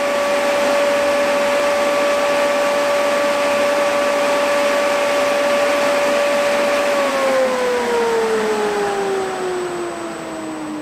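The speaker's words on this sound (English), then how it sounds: "now this fan has turned off" Electric radiator cooling fan on a car with an aftermarket Infinity ECU, a steady loud whir with a strong tone that drops in pitch and winds down after about seven seconds as the fan switches off at 70 degrees coolant temperature.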